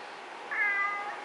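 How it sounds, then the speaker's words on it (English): A Bengal cat gives a single drawn-out meow, close and clear, rising and holding for about half a second over quiet room tone. "If you guys don't like meowing cats, don't ever get a Bengal because Bengal cats talk so much."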